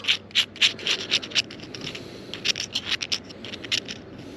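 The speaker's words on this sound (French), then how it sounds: "je l'ouvre un peu et je gratte avec la pointe de mon couteau" A knife tip scraping the inside of an opened mussel, a run of short, close scratchy strokes in quick irregular bursts with a brief lull midway.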